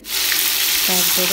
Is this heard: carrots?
yes